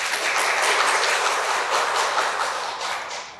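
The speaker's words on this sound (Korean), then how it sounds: "다시 한번 큰 박수 부탁드립니다" Audience at a public lecture applauding a former constitutional court justice, a dense, loud burst of many people clapping that stays even for a few seconds before tapering off, with no speech.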